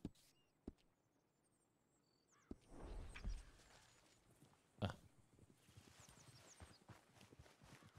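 Horse hooves walking in Red Dead Redemption, a faint steady clip-clop of footfalls with occasional louder thumps and soft ambient outdoor background.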